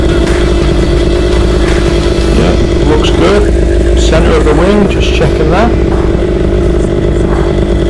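A new paramotor engine runs loud and steady before takeoff, its drone constant and close throughout while a person speaks over it.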